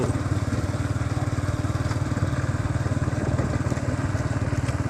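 A 150cc motorcycle rides along a village road, its engine giving a steady, even mid-pitched drone with a regular pulsing beat close by, and no talk over it.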